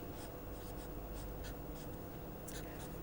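Writing out equations, a soft, steady scratching of strokes with short taps, close and quiet, under a continuous background hiss.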